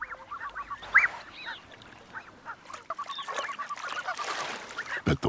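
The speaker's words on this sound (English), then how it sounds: "These blue-winged geese have young goslings," Blue-winged geese with goslings call in the highlands of Ethiopia, giving a run of honking and nasal calls, some close and loud, others overlapping from the flock, with no talk.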